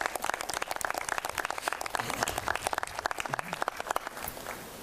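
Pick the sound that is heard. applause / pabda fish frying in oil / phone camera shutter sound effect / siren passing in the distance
applause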